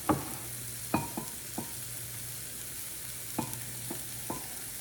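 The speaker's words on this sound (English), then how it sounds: "mix in, while it's cold, 3 tablespoons of flour with some of the beef broth" A whisk working flour into cold beef broth, heard as a few light, scattered taps and scrapes against the bowl, faint and close, over a low steady hum.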